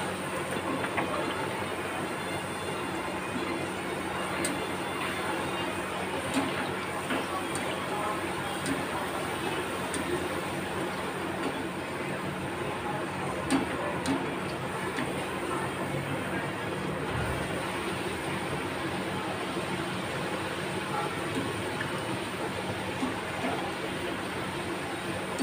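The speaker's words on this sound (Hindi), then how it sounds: "गरम हो चुका है ऑयल हमारा। तो हम इसे भटूरे फ्राई कर लेते हैं।" Bhature fry in hot oil, a continuous, even bubbling hiss that stays steady and close for the whole stretch with no break or change in intensity.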